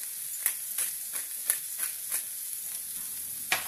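Pasta cooking in a frying pan gives a soft, steady sizzle with light crackling, several brief louder pops or stirs scattered through, quiet and close, with no voices.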